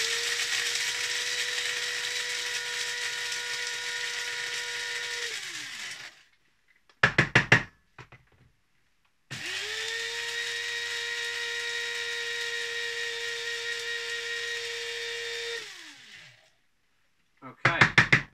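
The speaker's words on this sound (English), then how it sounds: "What I do is I'll do 6 seconds, then stop it, give it a little tap, and then do another 6 seconds." An electric coffee grinder grinding beans for Aeropress coffee runs in two steady, close bursts of about six seconds each. A few quick taps on the grinder follow each burst.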